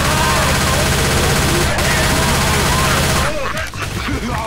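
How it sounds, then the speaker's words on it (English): Rapid gunfire from several players blasting at the Tank in Left 4 Dead, a loud, continuous machine-gun rattle that dominates before thinning out into scattered shots and game noise near the end. "Shoot the tank."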